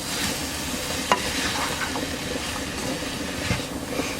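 Salt, pepper and garlic being stirred into hamburger meat in a skillet, a steady scraping and shuffling with a low sizzle underneath and a few sharper spoon knocks, close and continuous with no voices.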